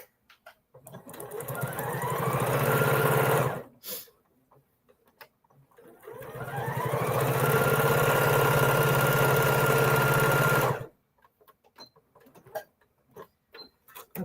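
A sewing machine stitches a quilt top in two long, steady runs of close, even mechanical whirring, separated by a short pause, with quieter handling sounds after it stops.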